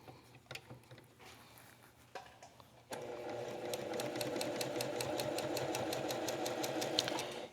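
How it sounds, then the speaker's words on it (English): A sewing machine stitches a log cabin quilt strip, a steady mechanical whirring with fine rapid needle clicks that starts after a few seconds of quiet handling noise and runs continuously to the end. "I just place it on top of the strip, right where I want to sew, and then proceed"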